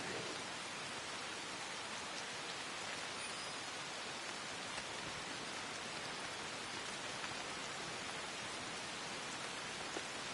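Heavy rain pours continuously in Assassin's Creed Shadows, an even, dense wash of drops on surfaces that holds steady throughout with no voices.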